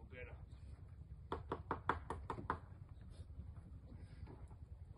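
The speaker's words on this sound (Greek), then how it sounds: "κάτσε να χτυπήσει την πόρτα εδώ πέρα" In a Greek shadow-theatre performance, a door is struck about seven times in a quick series of sharp wooden knocks, with quiet room noise and faint voices around them.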